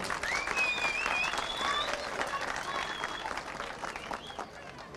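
A crowd applauding steadily throughout at an outdoor iftar and Ramadan event in Kocabaş, Honaz, Turkey; dense clapping that fades slightly toward the end, with some voices mixed in.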